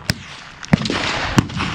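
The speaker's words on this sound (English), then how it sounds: "Shooting 22 long rifle at 100 yards." .22 long rifle rounds fired at a shooting range toward 100-yard targets, three sharp pops spaced roughly evenly over a couple of seconds, close and crisp with no talking.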